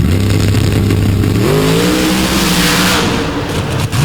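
Nitrous-fed outlaw drag race cars launch hard off the line at a Steelville track, loud engine roar rising in pitch as they accelerate away and fade slightly.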